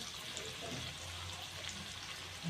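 Chicken noodles frying in a pan with a spoonful of soy sauce added, a soft steady sizzle with faint stirring, quiet and unbroken.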